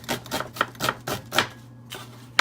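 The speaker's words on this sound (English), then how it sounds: "what I'm doing here is I'm just slicing some onion" Knife slicing onion on a cutting board while cooking mutton curry, with about six evenly spaced crisp cuts followed by a pause and one last cut, close and clear.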